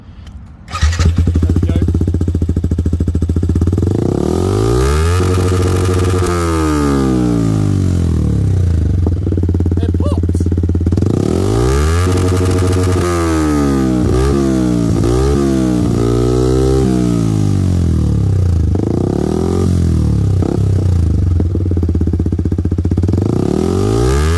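A 2020 Yamaha YZF-R125 motorcycle engine cranks and fires up quickly, then idles loudly up close while the throttle is blipped in repeated rising and falling revs.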